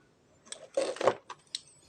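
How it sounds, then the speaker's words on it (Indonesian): Scissors cut through a foam sponge for a headset microphone mod, giving a few quick, close, quiet snips and crunches over roughly two seconds, with no talking. "Sponnya ini kita gunting"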